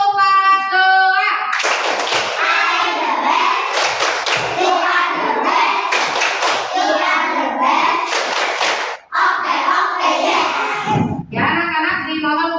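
A second-grade class at school performs a clapping chant, the children chanting together in bursts punctuated by sharp, rhythmic hand claps, loud and close, with a brief pause near the end.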